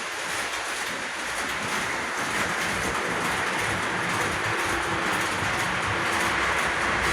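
A Lionel Alco PA toy model train pulling a streamline passenger train runs on a scale layout, giving a continuous, fairly loud rolling rumble and rattle with no speech.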